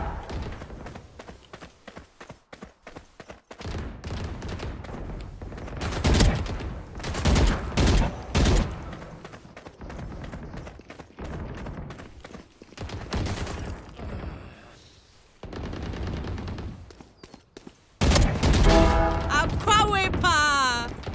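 Shotgun blasts and rapid gunfire ring out in a Valorant deathmatch, with dense bursts of shooting and booms throughout, loud and close, mixed with game effects and voices talking.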